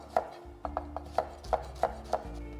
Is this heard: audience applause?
no